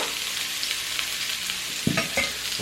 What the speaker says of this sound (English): We fry the onions.